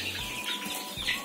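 Month-old young roosters raised in a small backyard pen behind a kitchen cluck and chirp faintly, with soft scattered calls over a steady background hiss and no talking.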